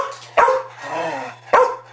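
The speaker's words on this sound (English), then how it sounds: "the dog's going crazy" A dog barks two sharp, close barks about a second apart, with a softer whine or growl between them and a steady low hum underneath.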